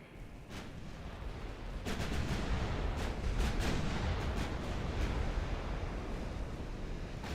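Warship guns fire in the naval video game Ultimate Admiral Dreadnoughts. Muffled, distant booms repeat over a constant ocean-like rumble, fairly quiet, with no voices.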